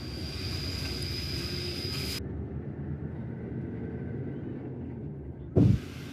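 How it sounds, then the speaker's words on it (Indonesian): A long-distance intercity bus on a solo trip from Jakarta to Denpasar drives along the road, giving a steady low engine and road rumble heard from inside throughout, with a brief louder thump near the end. "Lanjut, bis ini masih terus berjalan."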